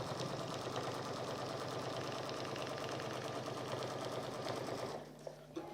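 Sewing machine stitching through cork fabric for a fabric bowl, a steady, continuous close-up whir of rapid needle strokes that runs nearly five seconds before stopping, followed by faint handling sounds.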